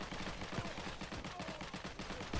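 Rapid pistol gunfire in Heroes and Generals, a dense run of faint, quick shots crackling steadily throughout over a busy battlefield backdrop.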